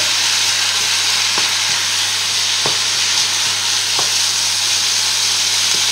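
Bolognese sauce of minced meat fries loudly in a pan with a constant dense sizzle, broken by a few soft, evenly spaced scrapes of a spoon stirring through it.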